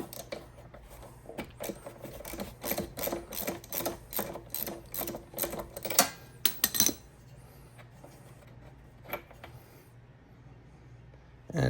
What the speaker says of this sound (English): Now we're going to use a 5/8 inch deep socket to just take it out.